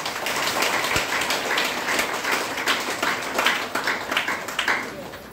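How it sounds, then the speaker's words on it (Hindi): Loud, sustained applause from an audience honouring mothers and sisters, a dense wash of clapping filling the whole stretch with a few sharper claps standing out, and voices faintly mixed in. "माँ और बहनों के लिए जोरदार ताली बजाएं"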